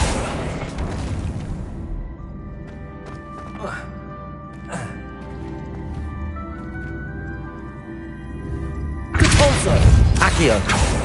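A Depulso spell is cast in Hogwarts Legacy. A forceful blast opens the moment, then the sound thins to faint ticks and ambient hum before a second heavy, booming burst lands near the end.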